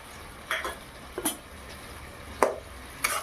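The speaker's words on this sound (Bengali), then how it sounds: "একটু ভালোভাবে নেড়ে টেনে নিলাম" Khar chhatu is stirred with a mustard, poppy seed and green chili paste in a pan: a few separate scraping strokes of the spoon, scattered across a quiet background.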